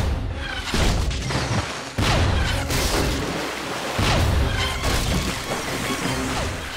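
Cannon blasts and explosions in a battle scene, several loud booming impacts with crashing debris in dense, continuous noise, no talk.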